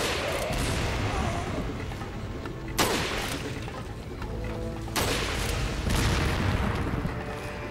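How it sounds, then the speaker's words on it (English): Thrown bombs exploding in the Resident Evil 4 video game, two loud sudden blasts spaced a couple of seconds apart over a constant din of gunfire and rumble. "Okay, somebody's throwing bombs at me."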